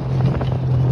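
A paramotor engine idles during a fast descent, giving a steady low drone under loud rushing wind noise across the microphone.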